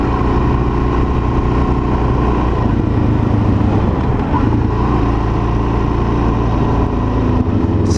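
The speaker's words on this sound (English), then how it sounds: "Sounds like a little turd of a bike, but it is. It's only a 400." A 2019 Suzuki DRZ400 SM, a 400 cc supermoto motorcycle, rides along in third gear. Its engine drones loudly and steadily close by for the whole stretch, with a brief dip in the middle.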